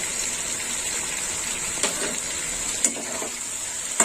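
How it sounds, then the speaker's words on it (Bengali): Pointed gourd curry sizzles in a frying pan while being stirred, with a constant high frying hiss broken by three distinct scraping strokes of a spatula. "আর একটু নেড়ে চেড়ে নেবো"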